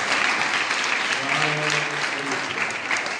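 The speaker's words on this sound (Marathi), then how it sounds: "व्हेरी गुड, टाळ्या वाजवा" School students at a high school clap together after a correct answer, a short burst of dense, even applause filling the room.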